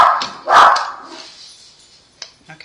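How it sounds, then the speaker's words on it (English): Pet dogs scuffle at close range, with a loud snarling burst of barking that fades into growls and a few sharp yips. "our dogs because they fight like that so bad"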